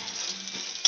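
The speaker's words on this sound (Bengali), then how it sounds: "ডিমগুলো দেখো ভাজা হয়ে গেছে" Eggs fry and are stirred in a pan while fried rice is being made at home: a steady sizzle runs throughout, with a brief sharp scrape of the spatula near the end.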